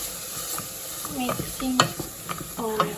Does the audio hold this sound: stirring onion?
yes